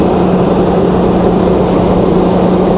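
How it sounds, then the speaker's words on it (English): A Chrysler Slant 6 gas engine driving a generator, fitted with Holley Sniper EFI and under load test, hums at a loud, smooth, steady low drone without any change in pitch or rhythm. "I can't get over how nice and quiet that engine is."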